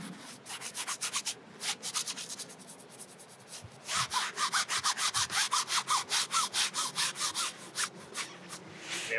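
A paintbrush scrubs paint onto canvas outdoors in a wet field during plein-air painting, a close, rapid, even run of rough back-and-forth scratchy strokes that pauses briefly and resumes faster, with no talking.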